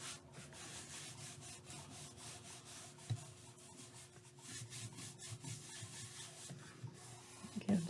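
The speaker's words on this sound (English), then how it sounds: "I'm just giving this a good press and rub." A hand presses and rubs fabric down onto a junk journal page, making a steady, soft, close scuffing and brushing sound that continues without a break for several seconds, with no talking.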